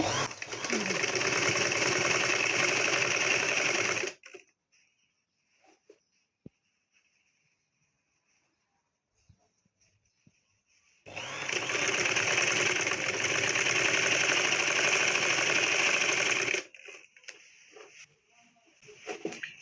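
A sewing machine stitching a baby frock runs in two steady, loud whirring bursts of several seconds each, separated by a near-silent pause with small handling clicks.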